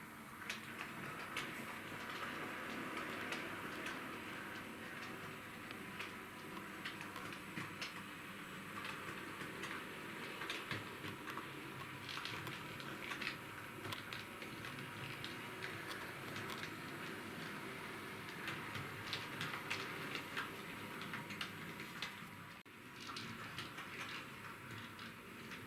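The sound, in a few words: Bachmann Class 40 model train locomotive running on track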